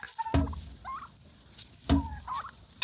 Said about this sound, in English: Even the turkeys don't let me work.